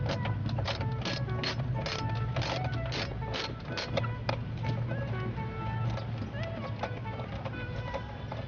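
A ratchet wrench turning a 10mm socket, a continuous fast clicking of the pawl that runs steadily and fairly close over a low background hum.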